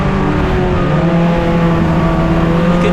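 Junior sedan race cars roaring around Northline Speedway on a greasy track, a loud, continuous, steady engine drone with layered harmonic tones throughout, no commentary audible.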